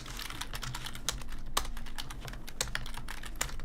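Rapid, steady typing on a new computer keyboard, dense key clicks with a few sharper, louder strikes, close up with no talking.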